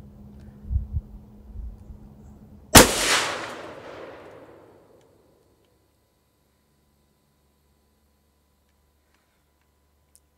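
A single loud, close rifle shot from a .350 Legend loaded with Sierra 125-grain JHP bullets over Winchester 296 powder cracks out after faint low handling noise, then its echo decays over about two seconds into silence.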